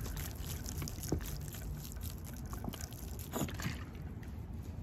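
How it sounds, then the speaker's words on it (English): Water is poured gently onto the soil of a potted oak tree, giving a faint, close trickle and a few soft splashes against quiet background hiss, with no voices. "Get a little bit of water on this."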